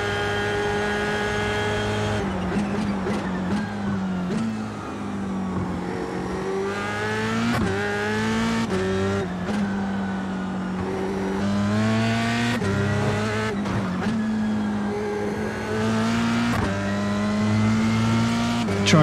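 A race car's engine screams in a sim racing video game, rising and falling in pitch through repeated gear shifts and revs, with occasional tire noise. It stays loud and close throughout, with no talking.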